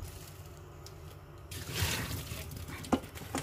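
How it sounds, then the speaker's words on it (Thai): Half-cooked sticky rice rinsed under water, quiet at first, then a swell of splashing and trickling with a few sharper knocks and splashes near the end. "ล้างน้ำเนาะ"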